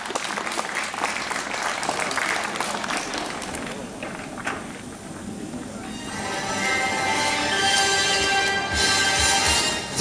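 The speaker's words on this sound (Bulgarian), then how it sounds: "Поприветствуем бурными аплодисментами." Applause welcoming a guest at the opening ceremony of the World Draughts Disabilities Championship in Kranevo, a dense, steady clapping from a large audience that swells louder toward the end.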